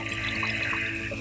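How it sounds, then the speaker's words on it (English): Hot water from a tap running steadily into a pan in an RV kitchen, a continuous close rush of filling water with no talk. "So I'm going to fill the pan a little over halfway with hot water."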